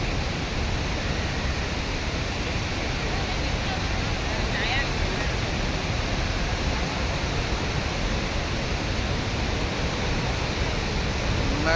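Thiruparappu waterfall near Nagercoil pours down in a steady, loud, broadband roar of falling water that continues unbroken throughout.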